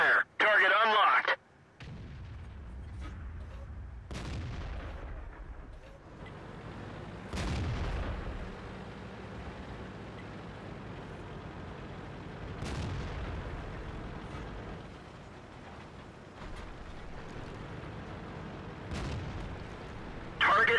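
A tank cannon in a video game fires a few heavy booming shots, including a Super Pershing, separated by low engine and battle rumble, with radio-style voice lines heard throughout.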